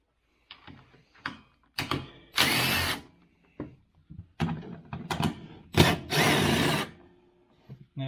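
A ratchet loosening bolts on a Kawasaki KRX, close and loud, in several bursts of rapid clicking separated by short pauses and single clunks.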